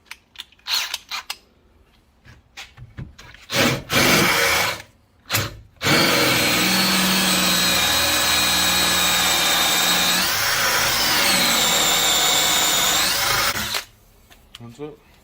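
Power drill boring pilot holes into a timber post for a backyard patio light string, a steady whirring run of about eight seconds, close and loud, with a pitch shift partway, after short bursts and handling noise.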